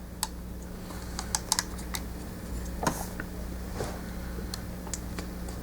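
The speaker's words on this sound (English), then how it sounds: "when you straighten it, you hear this click sound, which is like on a" Sharp, scattered clicks from the ratchet joint of a 2006 Transformers Classics Devastator toy, several small close-up snaps spaced irregularly over a low steady hum.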